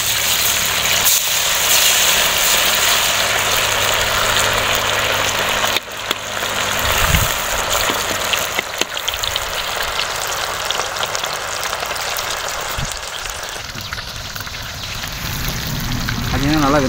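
Chicken 65, restaurant style, sizzling in hot oil with a steady, dense crackle and hiss that runs throughout, close and fairly loud, with a few brief bumps partway through.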